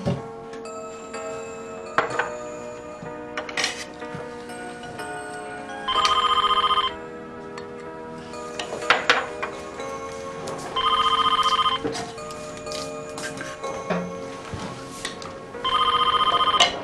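A telephone rings in repeated bursts in a quiet home, several rings spaced a few seconds apart, with background music running underneath.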